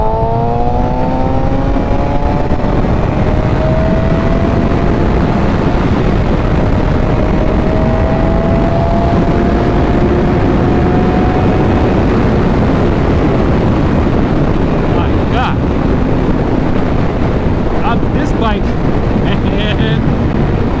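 A modified 2023 Suzuki GSX-R 1000 sportbike engine while riding, with a rising and falling engine whine under constant, loud wind buffeting across the microphone.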